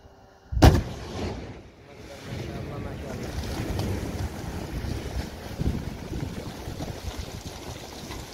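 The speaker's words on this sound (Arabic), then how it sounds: "الآن إن شاء الله ستشاهدوا تفجير حوالي 8 حفائر" Explosive charges blast mountain rock for a road project on the Wusab eastern route, one sharp, loud detonation early on, followed by a long, rumbling roar and wind noise at a distance.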